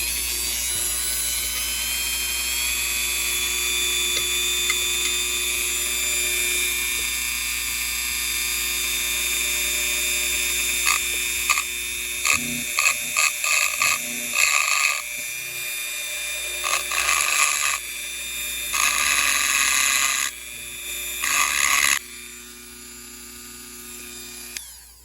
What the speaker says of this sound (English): make sure my Dremel is tight. And we're just gonna go at it just a little bit.